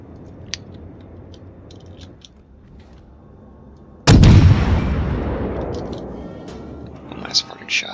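Warship guns firing in World of Warships, a sudden loud blast with a booming low rumble that decays over several seconds, after quieter background game noise.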